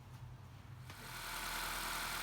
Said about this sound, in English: So I'll just let the engine run for about 30 seconds